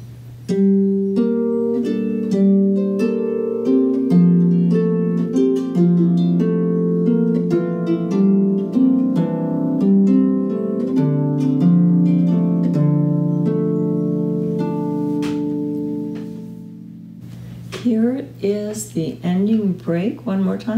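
Harp plays a melodic passage with chords in a steady, continuous flow, close and clear, before a brief pause and a few final plucked notes.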